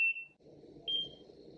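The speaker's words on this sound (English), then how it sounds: "you press the button which at the top right here, and it's gonna deliver 2 beeps" Two short, clean electronic beeps from an under-eye skincare device, the first at the very start and the second about a second later, each held briefly over quiet low background noise.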